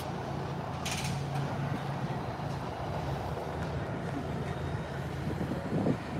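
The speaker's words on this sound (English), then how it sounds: "We're having some hard gusts at times" Wind rumbles and buffets the microphone in a steady low roar with occasional stronger gusts, faint voices barely audible beneath.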